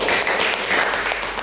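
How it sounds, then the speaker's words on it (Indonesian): Indoors at a school exam presentation, an audience gives a short burst of steady, dense clapping that stays fairly loud throughout. "Oke, tepuk tangan buat Kak Agia."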